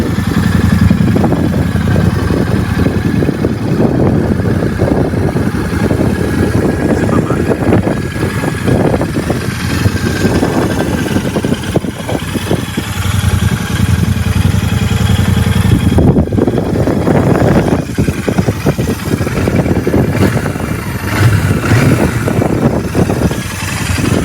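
A Royal Enfield 650 Super Meteor engine runs loudly and continuously, rumbling and revving close by throughout, with brief changes in throttle.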